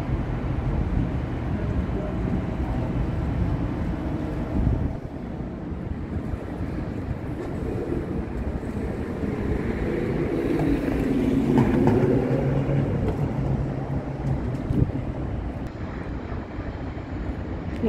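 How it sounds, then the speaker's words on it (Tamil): A sightseeing tour ferry carrying seated passengers passes on the water in downtown Chicago, a steady low engine rumble and wash that swells toward the middle and eases off, with distant city noise behind it. "ஒரு ஃபெரி போகுது, மக்கள்லாம் உட்காந்து போயிட்டு இருக்காங்க. சைட் சீயிங், இது டூர் ஃபெரி"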